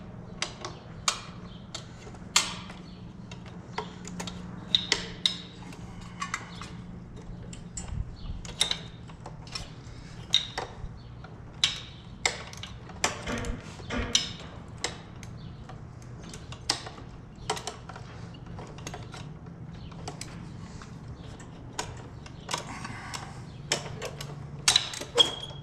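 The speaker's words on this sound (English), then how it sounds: "Now that I can move this a little bit, I might be able to get my ratchet in there" A ratchet wrench clicks in quick irregular bursts while loosening parts on the upside-down carburetor of a Honda Northstar pressure washer, sharp close metallic ticks over a low steady hum, with no voices.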